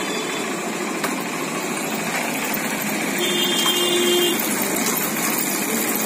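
A Hero CBZ Extreme motorcycle engine runs steadily at idle after gear spring replacement, a constant buzzing hum with a faint whine rising briefly in the middle, no talking over it.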